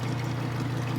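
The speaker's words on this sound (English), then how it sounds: "This is just a regular an aquarium pump for air" An ordinary aquarium air pump bubbles air into hydroponic nutrient water in a greenhouse, giving a steady, close, continuous fizz and gurgle over a low hum, with no breaks.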